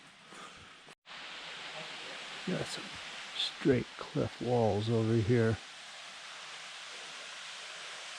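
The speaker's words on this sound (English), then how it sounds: "There's water flowing, and I hear a waterfall" Steady broadband rush of a waterfall and flowing water in a sandstone canyon at Starved Rock State Park, Illinois, continuous and moderately loud, with someone briefly talking over it partway through.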